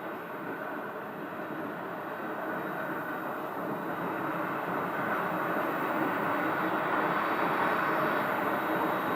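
A CRJ regional jet approaching Scottsdale airport, a steady broadband roar of engines and rushing air that holds constant and swells slightly toward the end, heard at some distance with no voices.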